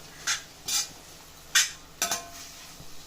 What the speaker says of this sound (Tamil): முதல்லையே நம்ம வந்து இதில் போட்டு எண்ணெயில் வதக்கிடுவோம் தக்காளியோட